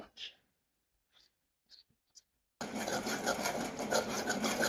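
Yogurt is stirred into spiced masala in a pan with a spoon, a continuous loud scraping and rubbing sound that starts abruptly after a few brief faint noises.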